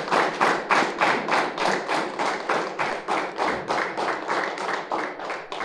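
An audience at a public gathering claps in unison, a steady rhythmic beat of about two or three claps per second that carries on without break and is heard close and clear.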